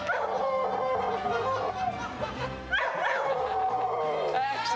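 A dog howls and yips along to the theme music of a 6 o'clock television news broadcast, its wavering, rising cries sounding close and loud over the continuous tune, with a brief lull near the middle before the howling resumes.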